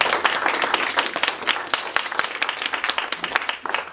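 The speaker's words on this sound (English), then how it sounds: "So give these guys a round of applause." An audience at a town dedication ceremony applauds, with many individual claps audible as sharp, rapid strikes in a lively, fairly close round that tapers slightly at the end.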